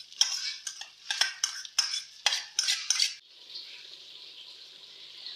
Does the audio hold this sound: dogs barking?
no